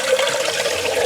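Water runs steadily from an outdoor sink during a hair wash, a close, continuous splashing hiss with no talk over it.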